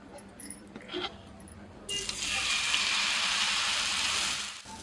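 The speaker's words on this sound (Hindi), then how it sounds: "तो दोबारा थोड़ा सा घी डाल के और हम डालते हैं सेम तरीके से बैटर को।" Batter hits hot ghee in a pan and a steady, bright sizzle rises and holds for a few seconds, following some quieter clinks and handling noises.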